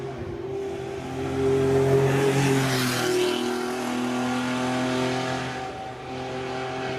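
A V8-engined car pulls away up a hillclimb at a retro car gathering, its engine note rising in a loud rev that swells as it accelerates and then holds a steady drone as it moves off.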